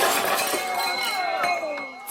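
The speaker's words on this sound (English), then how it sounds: "Plates, dishes, guests, and candles all come crashing down together in a heap on the floor." Plates, dishes and candles crash down onto a floor in a heap, a dense run of glassy clinks and clattering ceramic lasting about two seconds, with voices faintly mixed in.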